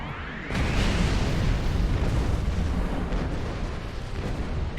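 A Doomsday weapon fires in the space game Star Trek Online, a sudden loud blast that swells into a sustained roaring, rumbling barrage. It stays heavy and continuous to the end.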